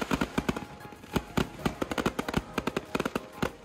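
Fireworks or firecrackers go off in a rapid, irregular string of sharp cracks and pops, loud and fairly close, with no voices over them.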